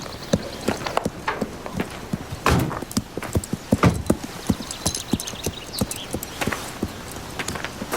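A pony's hooves clip-clop steadily on hard ground, a continuous run of sharp, close knocks with a few louder thuds along the way.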